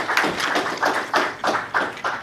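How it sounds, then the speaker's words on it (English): Audience clapping in rhythm, six or seven distinct unison claps spaced evenly about every third of a second, loud and fairly close. "Clap."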